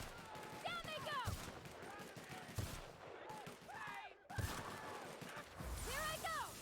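Gunfire bursts in The Outer Worlds video game, with several sharp shots spaced through the clip under fairly quiet game sounds, with voice-like calls and chirps in between.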